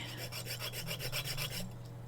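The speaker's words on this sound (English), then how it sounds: "listen to something except the sound of my sawing" Hand sawing through steel, steady rhythmic rasping strokes about every tenth of a second, close and moderately loud, with a constant low hum underneath and no talk.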